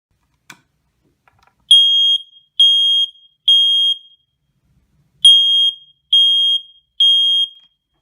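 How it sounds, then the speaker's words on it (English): A smoke alarm sounds two sets of three loud, shrill beeps, each about half a second long, separated by a brief pause, after a faint click. "Smoke alarms, a sound you can live with."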